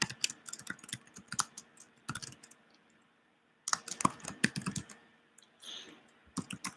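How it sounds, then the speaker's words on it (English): Computer keyboard typing in short bursts of close, crisp key clicks, with a brief pause before a denser flurry of keystrokes and a few final taps. "So I will type for you."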